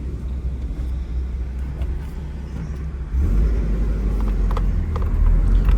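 A car with a restored Nissan KA24 engine runs on the road, a loud, low, steady drone that steps up in level about halfway through as it accelerates, with no talk.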